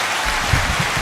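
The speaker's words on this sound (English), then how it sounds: "Is there applause? You can clap now." A short burst of dense clapping applause from a group, steady and fairly loud throughout the brief moment, with no voices over it.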